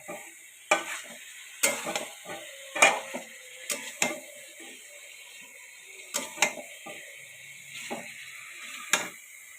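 Chicken frying in a pan, with a steady sizzle broken by repeated sharp scraping and stirring strokes of a utensil against the pan, close and fairly quiet.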